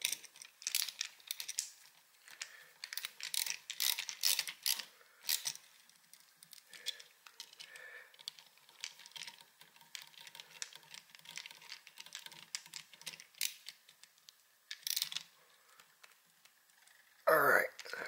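Screws being tightened on an old electrical outlet during replacement, close up, with a run of small clicking, scraping and tapping sounds, fairly quiet, ending with a louder brief rattle.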